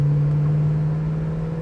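A 1965 Ford Mustang convertible idling with a steady, loud low rumble and an even drone, heard close up with no talk over it.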